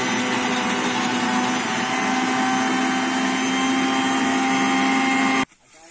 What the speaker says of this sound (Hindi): तो चलिए अब ढक्कन लगाते हैं मिक्सी का और बनाते हैं चटनी।